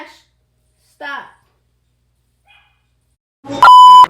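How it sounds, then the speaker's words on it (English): A puppy gives a few short, sharp yips and barks separated by silence, ending in a louder, higher-pitched bark close to the microphone. "It's probably gonna be barking."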